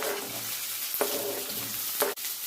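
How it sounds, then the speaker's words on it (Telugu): Chopped onions roasting with cardamom in a pan for palak paneer, a steady broadband sizzle with faint stirring scrapes near the one- and two-second marks, no voices. "ఆనియన్స్ బార్ ముక్కల కింద కట్ చేసి పెట్టుకున్నాం కదండి, అవి కూడా వేసుకుని రోస్ట్ చేసుకోవాలి."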